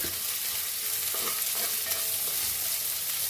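Onions sautéing in a pan for ghee rice give off a constant, dense sizzle with faint stirring scrapes, close and steady throughout with no talking.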